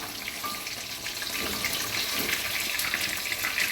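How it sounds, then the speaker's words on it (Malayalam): Chicken fries in coconut oil, giving a steady dense hiss of bubbling oil, close and fairly soft, with no talking. "നാടൻ വെളിച്ചെണ്ണയ്ക്കകത്തോട്ട് അങ്ങോട്ട് ചിക്കൻ അങ്ങോട്ട് ഫ്രൈ ചെയ്യാനിട്ട്"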